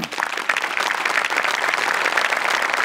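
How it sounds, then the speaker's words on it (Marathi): Sustained audience applause at a live comedy stage show, dense and steady clapping from a large crowd filling the whole stretch without a break. "जोरदार टाळ्या"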